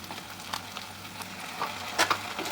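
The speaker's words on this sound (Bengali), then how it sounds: "আদা রসুন বাটাটা দিয়ে ভালো করে কষিয়ে নেবো এটাকে।" Ginger-garlic paste sautéing with onions in a pan, a low steady sizzle with scattered scraping and stirring clicks, close and moderately quiet.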